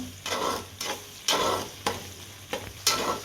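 Chopped tomato is stirred into onions sautéing in a pan for a Tamil fish curry, a soft continuous sizzle broken by five or six scraping spoon strokes, close and moderately loud, with no voices.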